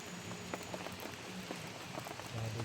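Steady rain patters on a surface outdoors, a dense continuous hiss with scattered drop ticks, moderately quiet and unbroken by talk.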